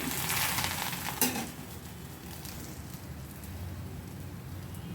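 A dosa made from green gram and raw rice cooks in oil on a pan, giving a soft, continuous sizzle with faint crackle and a brief clink near the start, fairly quiet and without talk.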